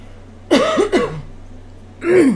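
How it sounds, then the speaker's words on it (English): A person clears their throat twice in quick succession, then once more after a short pause; close and fairly loud over a low steady hum. "let me just clear my throat one more time."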